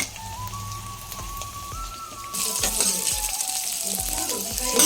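Garlic roasts in oil in a pan, a soft background for the first couple of seconds before a loud, steady sizzle and crackle takes over.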